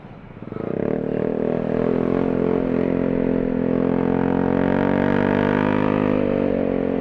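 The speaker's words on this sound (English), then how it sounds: "His bike is so loud." A loud motorcycle rides along close by, its engine a steady rumbling drone that builds over the first second and then holds strong and even throughout.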